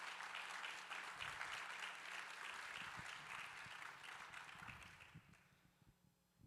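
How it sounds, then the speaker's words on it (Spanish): A church congregation claps steadily for several seconds, a dense wash of applause that gradually thins and fades away toward the end. "Give God a strong applause."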